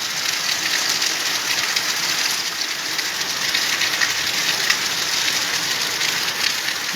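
Heavy midday rain pours steadily in July, a dense, even hiss of water falling and splashing on surfaces, loud and close with no voices and no break throughout.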